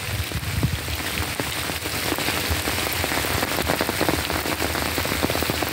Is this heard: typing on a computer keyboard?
no